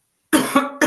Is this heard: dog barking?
no